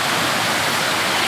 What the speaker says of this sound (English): Gorgeous, gorgeous stream.